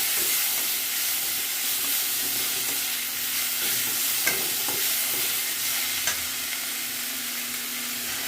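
Tomato and masala frying with chicken in a pan, a continuous loud sizzle and hiss with occasional soft scrapes and knocks as the mixture is stirred.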